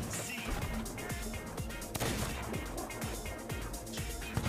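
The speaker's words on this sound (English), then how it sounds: "Bullets are flying everywhere." Gunfire in the Sea of Thieves pirate video game, a dense, muffled volley of repeated shots and impacts over busy background noise, fairly faint throughout.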